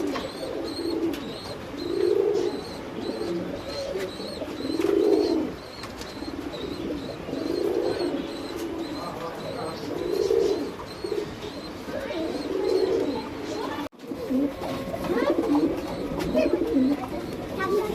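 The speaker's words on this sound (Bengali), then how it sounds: "এখানে একটা টপ কোয়ালিটির লাহোরি কবুতর আছে" Lahori pigeons coo repeatedly, a rhythmic series of low rolling calls every couple of seconds, close and clear over a background of faint chirps and rustling.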